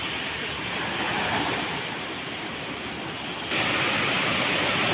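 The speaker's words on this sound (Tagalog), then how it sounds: "may mga malalaking alon" Continuous roar of large ocean waves, broad and steady, growing louder partway through as a small fishing boat comes ashore, with no voices.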